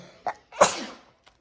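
A single sharp, close sneeze with a short inhale just before it and a faint click afterward, otherwise quiet.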